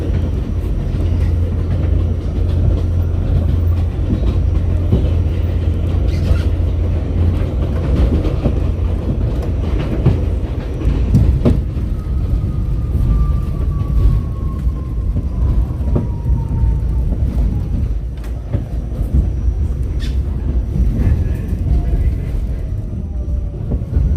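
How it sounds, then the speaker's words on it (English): Inside a moving New York subway train in Brooklyn, a continuous heavy low rumble with rattling and occasional clicks and screeching, loud and steady throughout with no clear talking. "I don't think we ever stream from the moving subway train."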